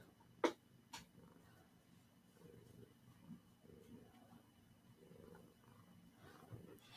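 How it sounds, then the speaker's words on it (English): A fluffy cat held in someone's arms purrs softly with a low, steady rumble that comes in gentle pulses. The sound is faint and close, with a couple of brief handling knocks near the start. "And he purrs louder."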